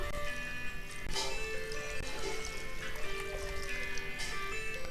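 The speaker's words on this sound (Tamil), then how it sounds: "இப்போ தண்ணியை நம்ம எல்லாம் ஊற்றிடலாம்." Water is poured into a pan of fish curry made with Kilathi fish. It gives a soft, continuous trickle and splash that stays fairly quiet throughout.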